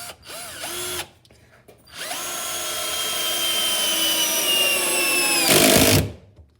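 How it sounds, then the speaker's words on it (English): A 21V cordless drill drives a stainless steel screw into a 2x4 without pre-drilling: a brief whir, a pause, then a long rising motor whine under load that climbs in pitch and cuts off abruptly. "I've got a stainless steel screw, and let's just see if we can go into the 2x4 here without pre-drilling anything"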